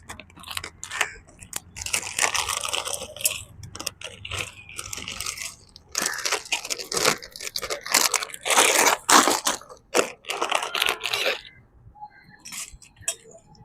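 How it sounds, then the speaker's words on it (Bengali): Kurkure snacks being crunched at a picnic with mom, with repeated sharp, close crackling bites in irregular bursts over roughly eleven seconds and faint speech in the background. "একটা কুরকুরে খেয়েও নেব।"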